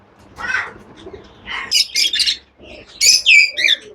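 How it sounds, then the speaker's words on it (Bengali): A pair of lovebirds gives sharp, squawky chirps in several quick bursts separated by short pauses, close and loud against a quiet background. "অনেক সুন্দর লাভবার্ড পাখি জোড়াটি,"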